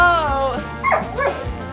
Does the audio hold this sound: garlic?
no